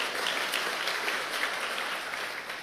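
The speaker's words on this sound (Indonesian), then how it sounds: "Kalau mau tepuk tangan, tolong tepuk tangan." A church congregation claps together during a sermon, dense steady applause that fills the space, slightly fading toward the end.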